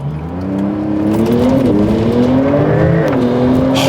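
A Porsche 992 GTS engine climbs hard in pitch as it accelerates, loud and close, with a brief dip and a rise again as the gears shift.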